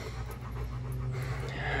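A young dog pants rapidly and close by, a quick steady rhythm of breathy huffs over a low hum.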